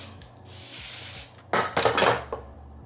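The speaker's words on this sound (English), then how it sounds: "take a little bit of your spray like this, add it to the sides of the unit" Short hissing bursts of spray misted onto the sides of a straight human-hair wig, one soft spritz followed by a louder cluster of quick sprays, close by and with no talking.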